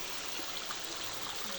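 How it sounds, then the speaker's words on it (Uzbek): Spring water runs down in a garden park in Xonabod with a steady, soft, close trickling rush that stays even for the whole short moment. "Buloq suvi tushib kelyapti."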